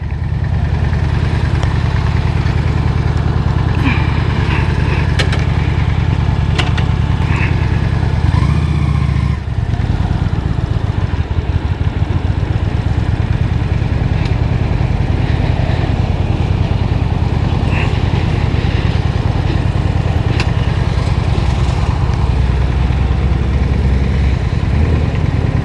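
A motorcycle engine runs steadily on a ride along Pulaski Highway in Baltimore, a loud continuous low rumble with a brief dip partway through, heard up close with no talking.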